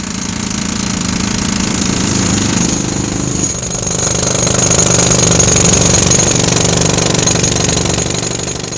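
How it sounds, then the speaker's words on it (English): Jackhammer breaking up a road surface during construction of an embedded rail system in The Hague, a loud continuous rapid pounding rattle that runs steadily throughout, close by with no talk. "After breaking up the road surface, a sand bed is applied and work starts on the sewers."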